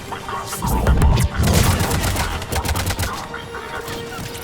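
Heavy gunfire and explosions during an enemy attack on a pod in Mass Effect 3, dense bursts and booms, loudest early, then scattered shots continuing.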